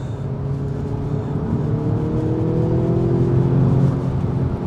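A 2017 Audi S3 Sportback Quattro Black Edition with pedal shifts holds third gear near 4,500 RPM, giving a steady, loud engine drone and whir heard from inside the car with no talking.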